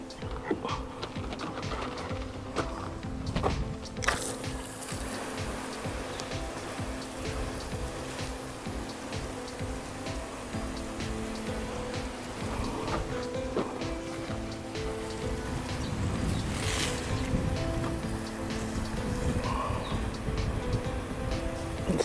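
Water sprays from a fixed-nozzle fire hose fed by a pump drawing from a dam, a steady rushing hiss that keeps going for over twenty seconds, with a brief voice heard early on.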